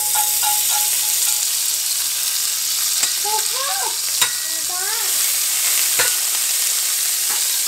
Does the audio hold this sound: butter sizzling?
yes